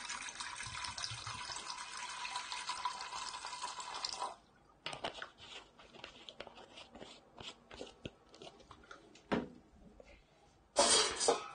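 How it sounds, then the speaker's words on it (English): Water runs and splashes from a tap or container into the base of a steam steriliser, a steady pour for about four seconds, then scattered handling knocks and a brief final gush of water. "Put sufficient volume of water to cover the bottom of the steam steriliser,"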